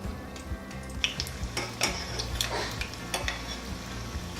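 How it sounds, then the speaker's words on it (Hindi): Cheese tortilla samosas frying in hot oil over a medium-low flame, with a steady close sizzle and occasional light clinks of a utensil against the pan. "मीडियम से लो फ्लेम पर ही हमने इसे फ्राई करना है"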